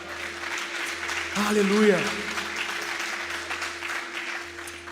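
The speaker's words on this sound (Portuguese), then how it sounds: "Vamos aplaudir ao Senhor por essa palavra" A church congregation applauds at a Sunday service, a steady wash of clapping that swells briefly around the middle while a voice calls out over it.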